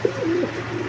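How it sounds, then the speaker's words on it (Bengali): A pair of black Danish pigeons gives a soft, close coo, a single rolling warble lasting under a second against a faint background hum. "আর এটা হচ্ছে ডেনিশ কবুতরের একটা জোড়া, দেখতেই পাচ্ছেন কালো ড্যানিশ"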